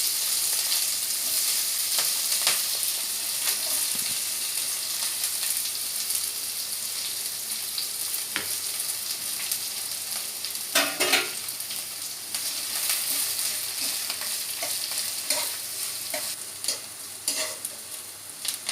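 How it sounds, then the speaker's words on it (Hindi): Cumin, green chili and chopped onion crackle in hot oil with a continuous loud sizzle, broken by occasional stirring clatters and spits, heard up close without speech. "मु एबे जीरा फुटौची, कंचा लंका दे दउची, कटा पियाज दउची"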